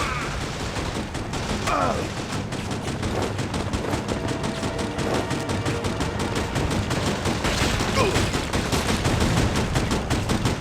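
Heavy enemy gunfire from the video game Devil's Third, a dense, loud, continuous rattle of automatic weapons and rapid shots filling the whole stretch without a break.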